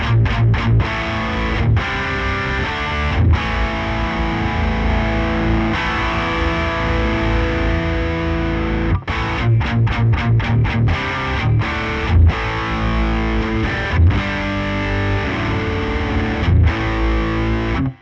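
Electric guitar played through a Suhr Riot distortion pedal set to high gain, a thick, saturated, sustained tone with chugging chords and brief breaks between phrases, loud and steady with no voices.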